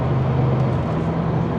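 A Corvette ZR1 engine drones low and steady from inside the car after a downshift. The sound is a constant close rumble with no talking over it.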